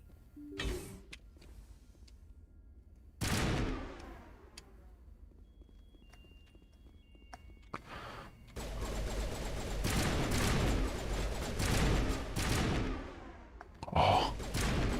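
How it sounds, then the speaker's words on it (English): A weapon in the video game Mass Effect, an assault rifle converted into a rocket launcher, fires sharp blasts, then a long roaring stretch of heavy explosive fire with rumbling impacts and a final bang. "Turns your assault rifle into a rocket launcher."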